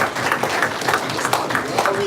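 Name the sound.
audience applause at meeting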